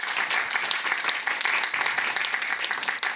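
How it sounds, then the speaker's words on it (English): A literary event audience gives a round of applause for an emerging writer, steady full clapping from many people filling the room, fairly loud and continuous. "let's give her a round of applause"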